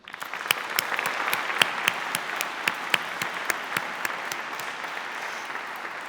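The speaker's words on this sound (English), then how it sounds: "Please give a round of applause for our inaugural graduating class and all 2024 Creative Youth Awards students." An audience at a youth creative awards ceremony applauds steadily, a dense wash of clapping with sharp individual claps standing out, sustained at an even, moderately loud level throughout.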